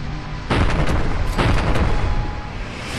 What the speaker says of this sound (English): The sound, along with the brief pop of the explosion, makes it a very merciful devastator as well.